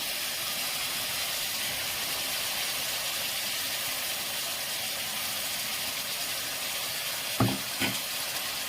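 Tomatoes and crushed shallots sizzle steadily in a pan for mutton biryani, a constant close hiss of frying, broken near the end by two brief clatters.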